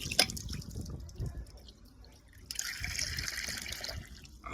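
Water splashes and trickles into a bowl for pigeons in short bursts, then a steadier pour starts midway, with faint rustling and clatter around it.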